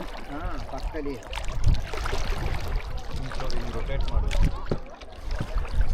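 A coracle is paddled on the Kaveri river near Talakadu, with water sloshing and splashing against the round boat in uneven strokes while people talk close by.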